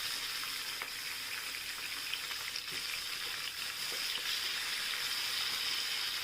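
Red chillies, peas and freshly added tomatoes fry in a pan for coriander rice, giving a steady, soft sizzling hiss throughout with no voices.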